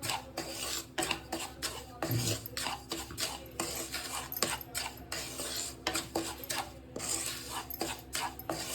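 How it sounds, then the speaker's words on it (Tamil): Semolina roasting in ghee in a pan, a spoon scraping and clinking in a steady, repeated stirring rhythm, close and fairly quiet. "இதை இந்த நெய் இருக்கிறதுலையே போட்டு ரவையும் வறுத்துக்கணும்"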